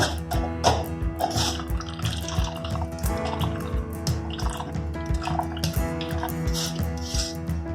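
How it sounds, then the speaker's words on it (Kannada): Freshly ground coconut milk is strained in a home kitchen, with steady drips and trickles of liquid falling into a bowl, close and fairly quiet, without talking. "ಇದನ್ನು ಸೋಸ್ಕೊಳ್ಳೋಣ."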